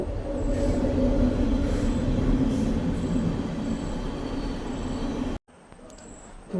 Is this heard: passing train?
yes